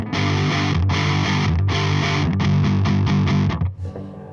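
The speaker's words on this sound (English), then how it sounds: "Or I can pull the gain right up and hit like a distortion." Heavily distorted electric guitar chords ring out loud and saturated for a few seconds through an overdrive pedal with the gain turned up, then cut off abruptly.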